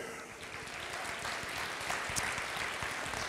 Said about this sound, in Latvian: Aplausi Vidzemei!